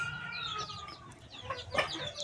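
Hens on a small poultry farm where brooding hens sit on chicken eggs and Chinese duck eggs, giving repeated close clucks and short squawking calls, with a louder burst near the end.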